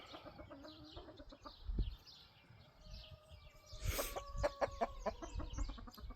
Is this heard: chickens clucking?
yes